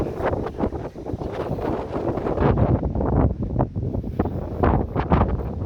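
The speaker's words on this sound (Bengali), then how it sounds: "প্রচণ্ড বাতাসে গাছের ডালপালা খুবই নড়াচড়া করতেছে, সাই সাই আওয়াজ হচ্ছে" Strong wind gusts through tree branches outdoors in the UK, a loud, continuous whooshing roar that surges and eases over several seconds, with no talking.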